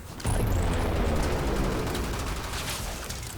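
Attica weapon fire in Warframe aimed at a level 100 Heavy Gunner Eximus: a loud, dense barrage of rapid shots and impacts that begins abruptly and runs almost unbroken, with no voices.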